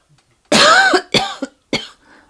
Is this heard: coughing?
yes